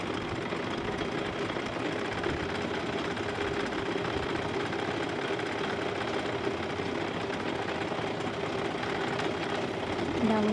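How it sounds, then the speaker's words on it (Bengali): A sewing machine runs steadily, stitching one side of a fabric pillow cover in a continuous mechanical whir that stays even and close for the whole stretch, with no talking over it. "একটা পাশ সেলাই করে নিচ্ছি।"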